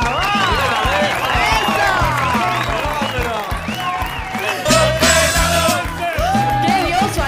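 Studio audience applause and cheering greet a contestant on a TV talent show, a brief louder burst rising over loud background music while a host talks.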